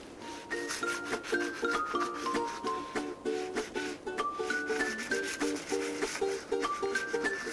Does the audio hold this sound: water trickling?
no